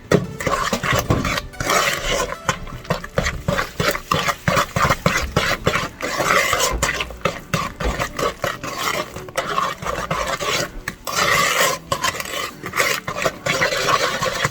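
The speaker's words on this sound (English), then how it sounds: "Beat the egg in there." An egg beaten into ginger molasses cookie batter in a bowl, heard as steady, close, rhythmic scraping and stirring strokes that carry on the whole time without talk.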